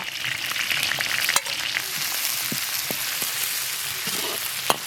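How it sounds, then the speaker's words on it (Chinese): Scallion, ginger, dried chili, Sichuan peppercorn, fennel and thyme leaves frying in hot oil in a wok, a steady close sizzle with brief clinks of stirring throughout. "锅里倒油，下入葱姜、干辣椒、花椒、小茴香、地椒叶"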